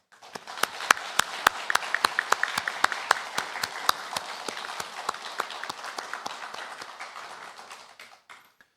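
Congregation clapping in rhythm during a Sunday worship service in a Korean church, steady unison claps on a regular beat that hold for several seconds, then thin out and stop.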